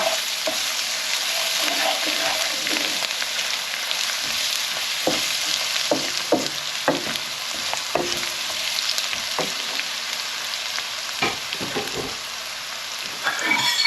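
Spices for a beef kofta curry fry in hot oil in a pan, giving a steady, close sizzle with occasional stirring clinks and taps throughout.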